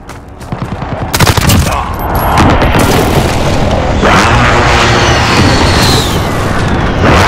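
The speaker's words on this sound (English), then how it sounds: "Enemy precision airstrike inbound." Precision airstrike explosions erupt in Call of Duty: Modern Warfare: a series of loud, close booms and crackling gunfire build into a sustained roaring barrage of blasts and rumble.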